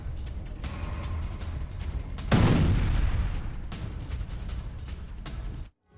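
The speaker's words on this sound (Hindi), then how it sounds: "बड़ा धमाका होता है और ये लॉन्चिंग साइट पूरी तरह से तहस नहस हो जाती है" A big blast rips through a drone launch site, a sudden loud burst of rumbling noise that rises sharply, holds for a few seconds as a heavy roar, then cuts off abruptly.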